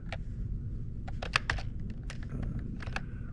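Numbers are tapped out on a computer keyboard to play a homemade Connect 4 game, a quick irregular run of light key clicks, close but quiet, with no speech.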